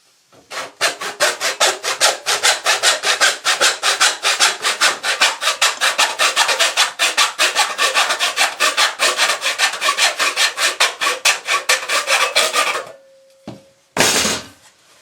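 A handsaw cuts about an inch off a wooden bathroom vanity in fast, rhythmic back-and-forth strokes, loud and close, stopping abruptly before a brief clatter at the end.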